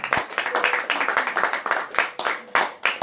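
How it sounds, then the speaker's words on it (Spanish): Scattered applause from a church congregation during a sermon, a fairly small group clapping in quick uneven bursts, with individual hand claps distinct and nearby rather than a smooth roar. "Dame un aplauso"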